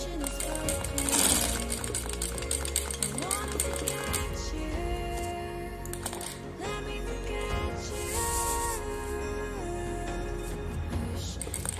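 Sewing machine stitching in rapid, steady mechanical bursts while locking the start of a seam, running close and continuous with brief pauses.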